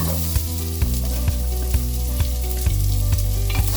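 Chopped onions sautéing in a pan for vegetable kurma, a steady close sizzle broken by regular scrapes and knocks of a stirring spoon about every half second.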